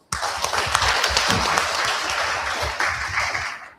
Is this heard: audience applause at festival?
yes